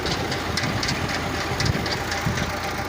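A low, steady idle rumble of a 640 tractor engine pumping water at low revs, with a faint rhythmic chugging and no voices.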